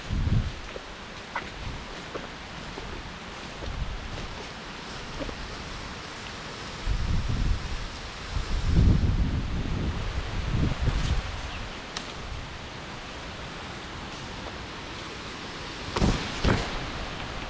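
Strong wind buffets a field of cassava plants in bad weather, producing a steady broadband roar with rustling and repeated low gusts hitting the microphone.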